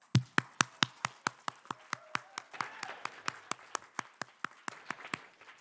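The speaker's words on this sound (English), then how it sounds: "let's stand and give them a round of applause" A church congregation at a Memorial Day Sunday service stands and applauds award recipients with sharp claps in a steady, even rhythm, roughly four per second, near and clear, with a faint murmur underneath.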